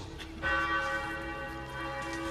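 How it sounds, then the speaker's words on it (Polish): Church bells ring out loudly and steadily over a castle square, their rich overlapping tones swelling after a brief quieter start and sustaining throughout. "Donośny dźwięk dzwonów wypełnia plac zamkowy i roznosi się po mieście."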